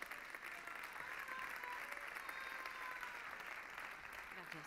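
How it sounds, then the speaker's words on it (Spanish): At a sports awards gala, the crowd applauds the sports councillor as she comes up to present a prize, a sustained, even roar of clapping with a faint voice or two woven under it. "fuerte aplauso para ella"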